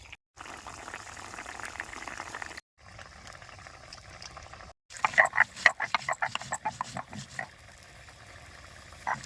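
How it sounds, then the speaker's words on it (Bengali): A pot of potato curry coming to a boil gives a soft, steady bubbling hiss broken by brief silent gaps, then a livelier stretch of popping bubbles and light knocks near the end. "তরকারি এখন ফুটতে আরম্ভ করছে"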